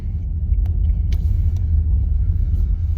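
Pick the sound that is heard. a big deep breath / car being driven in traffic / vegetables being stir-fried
car being driven in traffic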